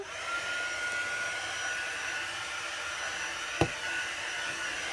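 A hair dryer drying chalk paste on a stencil, blowing as a steady, close whooshing whir from start to finish, with one brief knock partway through.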